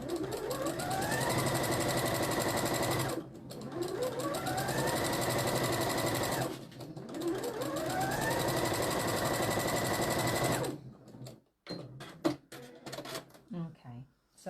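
A domestic sewing machine stitches a seam in stretch velvet, running in three long steady whirring bursts with rising starts and brief pauses between, followed by scattered handling clicks; close and loud with no talk over it.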